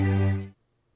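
A single sustained chord from the Sonokinetic Fantasy orchestral sample library, rich and harmonic, held for about half a second and then cut off cleanly, played alone with no talk.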